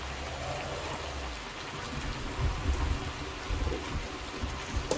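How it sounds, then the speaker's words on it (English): A thunderstorm passes overhead in farm country, steady rain hissing on surfaces while low rumbles of thunder roll in and swell in the second half, close and full-bodied with no one speaking. "Thunderstorm really is rattling away overhead."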